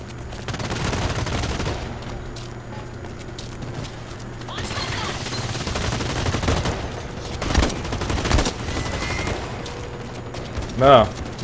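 Gunfire in the shooter game GG BlackLight: bursts and single shots crack over a steady background rumble, with a sharper report near the end, while a voice comments at points.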